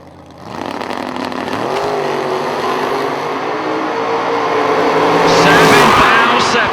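Bracket drag race cars, one of them a Camaro, launch at a drag strip: engines build from a rumble into a loud, sustained high-revving roar that climbs and fades, with an announcer's voice under it.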